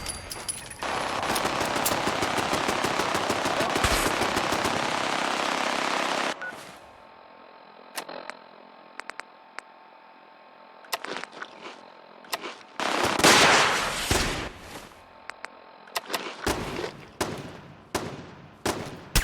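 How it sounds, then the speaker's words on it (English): Machine gun fire in the video game Fallout 4: a loud, dense sustained burst for several seconds, then scattered shorter bursts and single shots with gaps of near silence, close and sharp. "Taking fire!"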